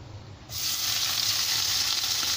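Shrimp hit a hot frying pan with a sudden loud sizzle that then holds as a steady, close, crackling hiss.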